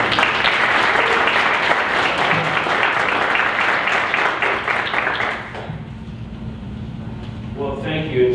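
Audience applause welcoming a speaker, dense sustained clapping from a crowd filling the room for several seconds before fading out, then quieter room tone.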